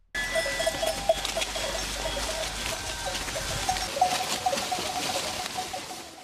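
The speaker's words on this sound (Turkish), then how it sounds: "Büyükbaş ve küçükbaş hayvanlardan oluşan sürü zaman zaman yayla yolundan bazen de ormandan geçerek dönüş yolunda ilerledi." A mixed herd of cattle, sheep and goats moves along a mountain highland road, with light clanking bells and scattered bleats over a steady outdoor wash, occasional louder bell hits standing out, and no talk.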